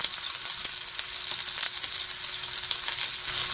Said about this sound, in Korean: 식용유를 조금 둘러주고 두부 4분의 1 봅니다. 두부를 좀 두툼하고 굵직하게 구워줍니다.